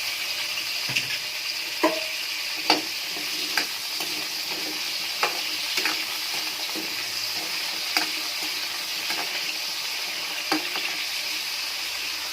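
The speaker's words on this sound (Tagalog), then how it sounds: "Magbutang na ka og oil sa kaha. Prituhon una ang atong carrot at patatas." Carrots and potatoes fry in hot oil in a pan for chicken curry, giving a steady, bright sizzle throughout with repeated scraping knocks from stirring at irregular intervals, close and with no voices.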